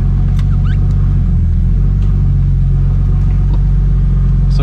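A four-door Nissan Skyline R33 fitted with new coilovers and radiator pulls out, giving a loud, continuous low engine rumble close by with no talk.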